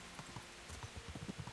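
Horse hooves clip-clop along a path in the medieval game Kingdom Come: Deliverance, with a steady, uneven rhythm of close, soft thuds and no talk.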